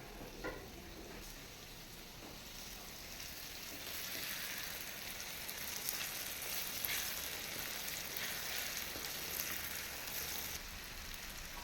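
Paneer pieces sizzle steadily in an oiled pan at home, a continuous close crackling hiss that swells slightly partway through, with no voices.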